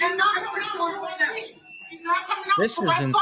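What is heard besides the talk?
No everyday noises stand out.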